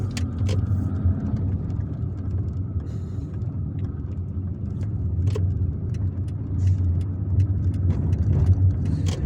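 A car driving along Independence Avenue in Algiers, heard from inside as a continuous low engine and road rumble, steady and close, with a few faint clicks and rattles.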